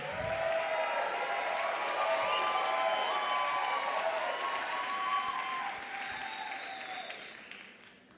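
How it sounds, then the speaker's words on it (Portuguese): Audience applause for the speakers at a reading-mediation panel, a dense, steady clapping that carries on strongly for several seconds and then fades out toward the end. "Muitas palmas."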